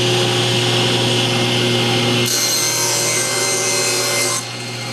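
Wood is pushed along a table saw fence with a cam push block, making a loud, close machine drone with a steady hum and a brighter rasping band that switches on midway and then drops away near the end.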